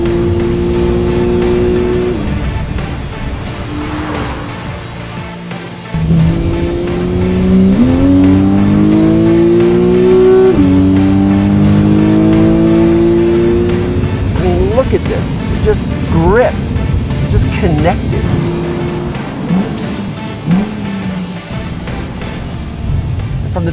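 A Porsche 911 is driven fast through mountain curves, the engine revving up and down loudly and close as it climbs through gears between corners, with rising pitch sweeps and brief gaps at shifts.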